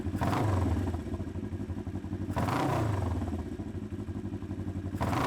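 A Yamaha XS 500 motorcycle engine runs steadily during carburetor synchronization, a loud, close, continuous throbbing idle that swells slightly in places, with no talking.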